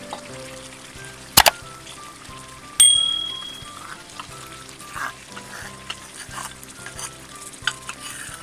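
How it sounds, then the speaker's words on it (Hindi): Yogurt cooking into a dhaba-style chicken karahi, a low simmering sizzle punctuated by metallic spatula clangs against the wok and occasional stirring scrapes, close by. "दही को इसमें पकाना है अच्छी तरीके से"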